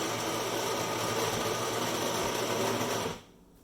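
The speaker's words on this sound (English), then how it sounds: "So you can grind right into it like this." A Breville Dose Control Pro grinder grinding coffee beans makes a loud, steady, close whirring buzz that runs without a break, then cuts off abruptly near the end.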